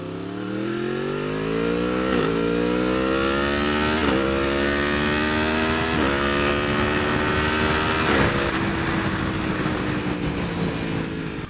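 A motorcycle with a quick shifter accelerating hard, its engine note climbing steadily then dipping briefly at each of four quick upshifts roughly two seconds apart, loud and close throughout.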